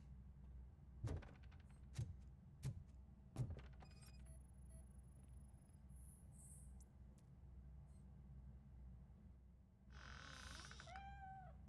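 A cat meows in the RoboCop: Rogue City video game, with a few sharp clicks and steps early on, then a short run of close, high meows near the end over a steady low ambient hum.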